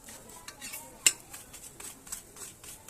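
A ladle scrapes and taps on a chapati in a pan while oil is spread over it, giving soft close rubbing strokes with one sharp metallic clink near the middle.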